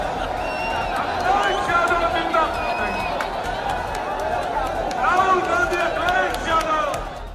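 Lively outdoor crowd at the Bharat Jodo Nyay Yatra in Agra, with a dense roar of voices, whistles and scattered shouts swelling and ebbing throughout.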